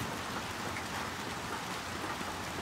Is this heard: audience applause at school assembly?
no